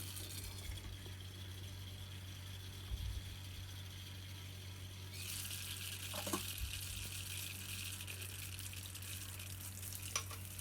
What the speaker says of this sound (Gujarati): 4 થી 5 ટેબલ સ્પૂન તેલ લઈને એમાં 2 મોટી ચમચી રાઈ તમારા ટેસ્ટ પ્રમાણે વઘાર કરવો